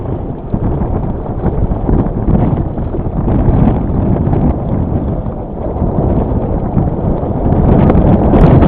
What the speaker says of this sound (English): So the winds really pick up here